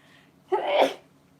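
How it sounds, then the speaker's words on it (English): A single sharp sneeze, close and fairly loud, in an otherwise quiet moment. "Sorry, I sneezed on you."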